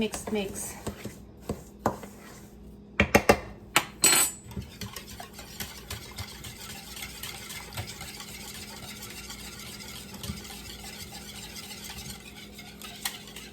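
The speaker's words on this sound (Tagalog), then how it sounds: "So just gonna mix everything here like this." Butter mochi cake batter is stirred in a bowl, the utensil clattering and scraping against the sides in a burst of sharp knocks before settling into a steady, quieter swirl, with a voice talking nearby.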